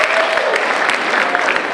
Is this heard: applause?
yes